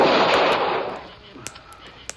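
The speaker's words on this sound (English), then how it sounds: "But the shots weren't coming from inside." Gunfire in a 1950s Western radio drama: a loud sharp blast with a rolling decay, then a couple of fainter, distant cracks afterward, with no talk over them.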